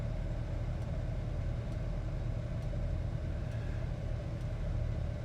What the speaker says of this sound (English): Real nice idle to the truck